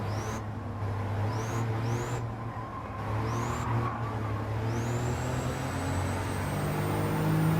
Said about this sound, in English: when you get on throttle, you hear the thing spooling up, you hear the air coming into the air filter